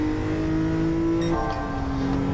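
A stock Nissan 370Z on a track lap holds a loud, steady engine drone from the cabin, then shifts gear about halfway so the pitch drops and climbs again, with no talking over it.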